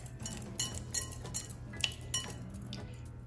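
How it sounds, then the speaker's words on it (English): Eggs are whisked in a bowl, heard as faint, irregular clinks and taps of the whisk against the bowl in a quiet kitchen. "So one at a time, put in your egg, whisk."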